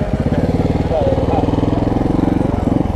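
Montesa 300RR trial motorcycle engine chugging at low revs, a close, pulsing thump throughout, with someone speaking over it.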